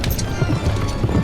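Horses gallop while pulling chariots, their hooves clip-clopping in a fast, rumbling rhythm, close and loud, with a faint whinny above the pounding.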